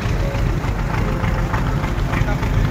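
A motor boat engine drones on a lake crossing toward Vasota Fort in Maharashtra, a steady, low rumbling hum close by under people talking.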